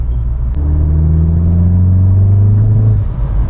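A 440 hp Seat Cupra Leon accelerates hard in race mode, its engine note climbing in a loud, close, rising drone with deep rumble, then easing off near the end.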